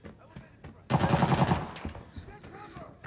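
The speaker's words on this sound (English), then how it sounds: "I think he's shooting me from balcony, to be honest." Gunfire in the video game Arena Breakout: faint scattered shots, then a loud, rapid burst of automatic fire lasting under a second, followed by a few fainter shots and game noise.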